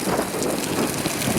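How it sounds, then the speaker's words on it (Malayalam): A loud, dense rush of rain and wind, rumbling and hissing without pause through the short stretch. "ഓ മഴ പെയ്ത്."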